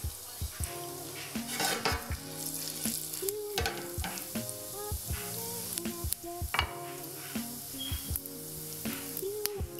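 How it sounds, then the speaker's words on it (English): Panch phoron seeds crackle and pop in hot oil in a preheated pan for green tomato chutney, with brisk sizzling and repeated metallic clinks of a spoon against the pan, no one speaking. "add the panch puran and let it fry for a little bit."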